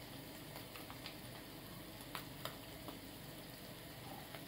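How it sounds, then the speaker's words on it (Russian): Seafood frying in butter with tomato paste gives a steady, quiet sizzle, with a few soft pops and stirring clicks now and then. "Обжариваем морепродукты. Добавляем сливочное масло. Томатная паста."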